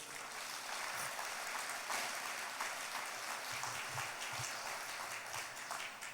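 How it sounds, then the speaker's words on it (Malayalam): A congregation clapping at a church sermon, a continuous even patter of many hands at moderate distance, fairly faint and steady throughout without speech. "঒ന്ന് കൈയുയർത്തി കൈയടിച്ചേ."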